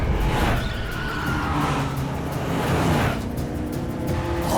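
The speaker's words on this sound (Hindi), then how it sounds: "गाड़ी निकालो जल्दी।" A getaway car speeds off with a loud, close engine roar and the hiss and scrub of tires pulling away, the sound rising and swelling over a few seconds without speech.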